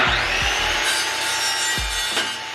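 A power saw cuts through a steel piece, giving a loud, continuous, harsh grinding rasp with a few low thumps, close by, with no talking.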